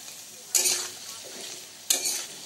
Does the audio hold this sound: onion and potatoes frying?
yes